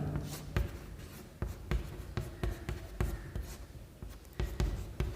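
Marker or chalk writing on a board during a chemistry lesson: a run of short scratchy strokes and taps in an irregular rhythm, close and fairly clear, with no talk over it.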